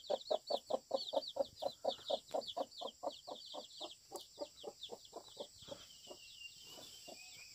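Chickens cluck close by near an elderly woman, giving a steady run of about twenty evenly spaced clucks that slowly loosen and fade, with faint higher chirps above and no talking.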